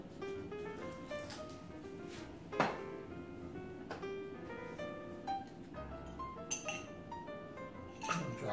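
A large ice sphere drops into a cocktail glass of bourbon blended with syrup and orange bitters for a bacon maple old fashioned, giving a few sharp, close glassy clinks over a steady low background hum.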